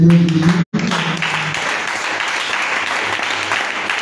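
A church congregation applauds steadily after a brief pause, a dense, sustained wash of many hands clapping close by, with a faint cheer or voice briefly at the start.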